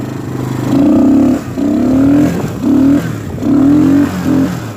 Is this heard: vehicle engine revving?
yes